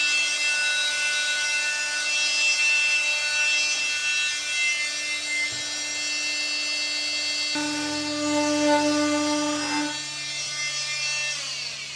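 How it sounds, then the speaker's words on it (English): A steady, high-pitched mechanical whine of a blade cutting a groove in thick foam for a Range Rover Classic interior door panel, running continuously with a shift in pitch partway through, loud and close. "cut a groove all the way in that without going too deep"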